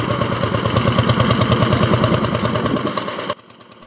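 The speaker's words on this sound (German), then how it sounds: "Der blaue Traktor blubbert vor sich hin und frisst sich Stück für Stück durch das erntereife Korn." Old blue tractor engine over 70 years old, harvesting ripe wheat, putters with a steady rhythmic chugging close by, then cuts off abruptly near the end, leaving quiet.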